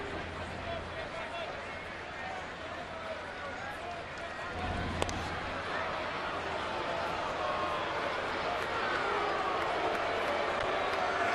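Baseball crowd at Fenway for Rays at Red Sox, April 2013, getting on pitcher David Price after repeated throws over to first; a steady, dense crowd din that swells slightly toward the end, with a commentator talking over it.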